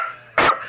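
A dog gives a single short, sharp bark close by, cutting through a low background hum.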